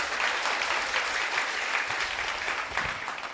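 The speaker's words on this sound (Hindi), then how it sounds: "तो ताली तो बजा दिया कर।" Audience at a religious darbar gathering in Pandokhar, Madhya Pradesh applauding, a dense steady wash of clapping from many hands that holds at an even level throughout with no talk over it.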